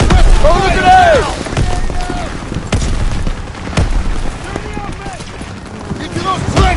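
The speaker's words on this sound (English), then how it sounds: "Toss it out, a grenade. Grenade out. Throw the grenade." Explosions and gunfire in a World War II shooter game's campaign, loud booms at about 2.7 and 3.8 seconds amid continuous battle noise, with voices and shouting throughout.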